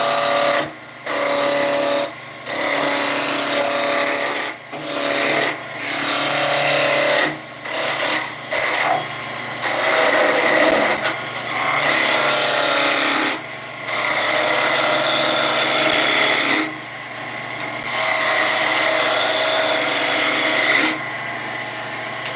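A file or rasp sharpens a blade in repeated rasping strokes, each a few seconds long with short pauses between, loud and close with no talking.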